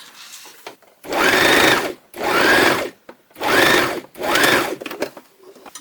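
A sewing machine runs in four steady bursts of about a second each, stitching folded fabric along one side of an extra-large scrunchie, with short pauses between runs and no talking.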